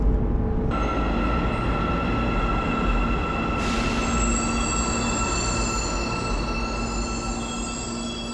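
A metro train pulls into a station in Almaty, Kazakhstan, with loud, sustained high-pitched wheel squeals over a steady rumble, the screech shifting in pitch near the middle.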